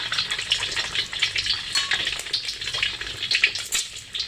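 An egg frying in hot oil in a wok or pan, giving a steady, dense crackling sizzle with bubbling spatter that holds close and fairly loud for several seconds, no voices.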